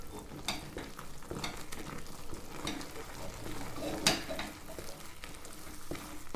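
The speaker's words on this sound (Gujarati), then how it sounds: "તવીથાની મદદથી આ રીતે હલાવી લેશું." A spatula stirring rice flour dough in a pan over a medium flame, with soft repeated scrapes, light sizzling and an occasional sharper clink of utensil on metal, fairly quiet and close.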